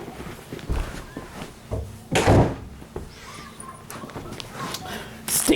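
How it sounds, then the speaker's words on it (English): A room door pushed shut partway through, giving one fairly loud thud amid small knocks and handling noises, with brief voice sounds nearby. "Excuse me while I close my door."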